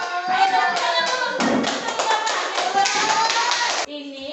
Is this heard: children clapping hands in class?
yes